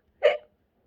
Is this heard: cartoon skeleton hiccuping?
yes